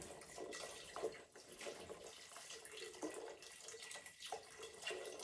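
Filtered water pours steadily into a pot of chestnuts, a faint continuous splashing and gurgling stream with no voices.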